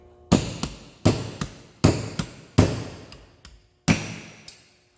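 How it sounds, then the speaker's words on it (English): A hammer striking a cold chisel to cut rivets off the foot pumping assembly of an M35 lift pump, six sharp close metallic blows in a steady rhythm, each followed by a brief ring. "First I'm going to see if I can cut the rivets off the bottom of this with a cold chisel."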